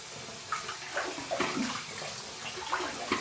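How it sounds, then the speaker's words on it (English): Cold water from a bathroom sink splashed onto a face before a shave, a run of close, uneven wet splashes and dribbles with no speech. "We're going to wet the face, and we're going to get to the shave."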